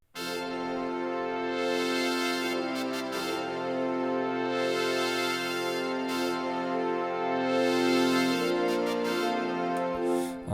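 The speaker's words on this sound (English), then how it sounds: "then there's also some trumpets here." Full, steady brass-backed music arrangement plays throughout, with trumpet-like sustained tones layered over a dense band, loud and continuous with no voices.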